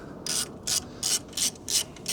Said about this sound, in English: Obviously start by taking off the clamps.